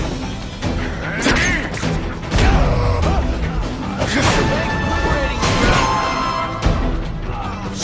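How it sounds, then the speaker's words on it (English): Seismic blast attack in The Amazing Spider-Man 2 video game: heavy booming thuds and crashing impacts over a dense, loud mix of game effects and a voice, with big hits near the middle and another near the end. "No one gets left out when I use the seismic blast."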